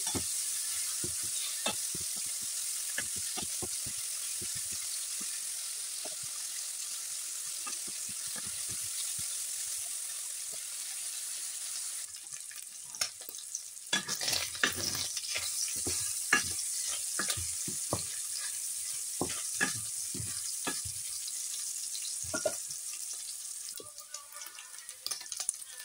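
Bacon frying in a pan over medium heat for spaghetti carbonara: a steady close sizzle with scattered clicks and scrapes of stirring, growing busier and more clattery in the second half.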